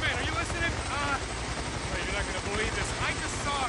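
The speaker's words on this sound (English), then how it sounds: "Fed chopper shows up out of nowhere." Helicopter passing low overhead in the video game Days Gone, a continuous rotor throb and whine that fills the scene beneath someone talking.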